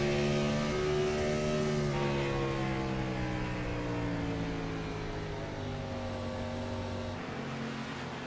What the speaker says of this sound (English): he's really revving them nice and low into those turns.